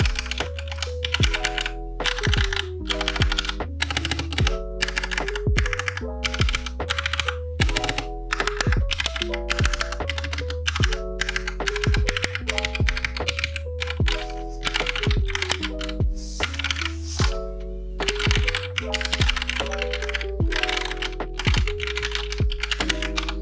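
Typing on an AM Pro 2 mechanical keyboard with Gateron red switches, a steady run of close, distinct keystrokes that continues without talk over it.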